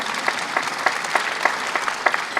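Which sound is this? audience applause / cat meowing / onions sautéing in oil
audience applause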